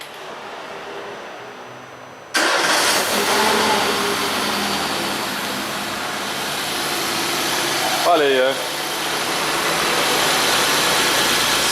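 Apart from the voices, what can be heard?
car engine, 1.4 8v, starting and idling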